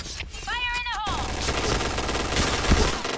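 Rapid gunfire from a Point Blank online shooter match, a dense burst of shots with a louder close report near the end, mixed with game effects.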